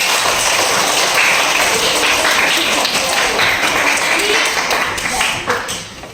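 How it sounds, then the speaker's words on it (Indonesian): A class of schoolchildren in a classroom claps together, with dense, loud applause that fades out toward the end while voices mix in. "Tepuk tangan untuk kita semua."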